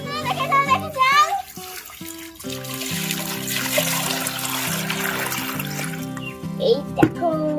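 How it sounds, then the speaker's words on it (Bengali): Water trickles and splashes steadily into a toy swimming pool while someone talks excitedly over it, with background music running throughout and the pouring staying close and continuous. "এবার আমি জলটা এখানে ঢেলে দেবো সুইমিং পুলে।"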